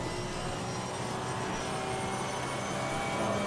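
Porsche Cup race car engine in Assetto Corsa Competizione at Silverstone, a steady loud droning roar held under throttle, with no talk.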